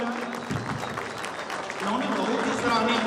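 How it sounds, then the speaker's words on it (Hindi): An audience applauds at a stage award ceremony during the Bihar Navodyan Samagam 2024, a dense clapping wash under talk that swells louder toward the end. "नवीन गुप्ता भैया के लिए जोरदार ताली हो जाए।"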